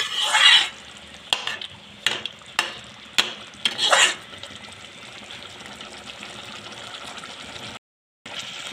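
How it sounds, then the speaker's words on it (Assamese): Tomatoes fry in a pan for a fish curry, a spatula scraping and clattering in a run of sharp, close strokes over a low steady sizzle, then frying quietly alone before a brief silence. "এইখিনি ভালকৈ আকৌ ভাজি ল'ম।"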